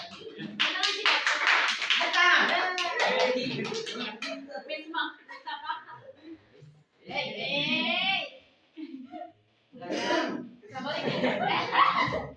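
A classroom of students claps hands during a group presentation session, bursts of clapping mixed with chuckles and laughter that break off into pauses and short stretches of talk.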